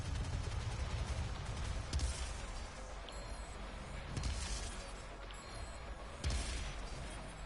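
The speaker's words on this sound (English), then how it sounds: "Explosions! Yes, explosions." Explosions in a Doom map game session, heard as a dense continuous roar of booms and blasts, with sharp loud bursts near 2, 4.2 and 6.3 seconds, no talk.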